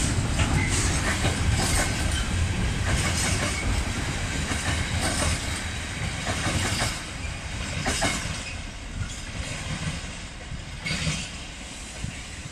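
A GBRF Class 66 freight train rumbles steadily past close by at Eastleigh station, with rhythmic clacking of wheels over rail joints and a broad hiss throughout, no voices.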